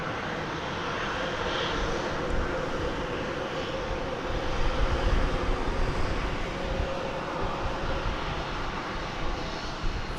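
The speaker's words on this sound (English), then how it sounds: "A Spirit Bird, bright yellow in the morning, going to Chicago O'Hare on an Airbus A320 Neo." Spirit Airlines Airbus A320neo, bright yellow, departing Dallas Fort Worth for Chicago O'Hare in the morning: a steady, broad jet engine roar heard from a distance, swelling slightly midway and holding, with no voices.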